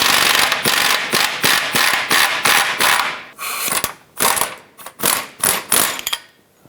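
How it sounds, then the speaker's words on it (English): A ratchet wrench turns a 21mm bolt on the front lower control arm of a 2013-2020 Nissan Pathfinder, close and loud, with rapid ratcheting clicks in repeated strokes and short pauses between them. "Hold the nut on the top side with a 21mm wrench."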